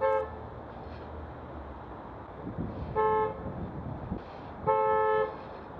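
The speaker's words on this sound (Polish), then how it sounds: "Niektórzy tak dużo czasu spędzają stojąc na czerwonym, że z nudów zaczynają bawić się klaksonem." A car horn toots twice in city traffic at a red light, two steady blasts a couple of seconds apart over a low rumble of idling road noise, heard from nearby.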